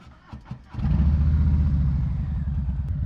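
A 2020 Harley-Davidson Low Rider S is started or pulls away after a few quieter knocks, then settles into a loud, close, steady low engine rumble that holds to the end with no voices.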